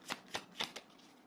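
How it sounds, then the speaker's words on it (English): Tarot cards being shuffled by hand, four quick soft riffling bursts in an uneven rhythm, close and fairly quiet, fading out at the end. "I'll shuffle another one last time."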